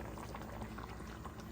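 Milk for a Christmas stew boils hard in a pot, a steady dense bubbling and gurgling that stays close and even throughout with no voices.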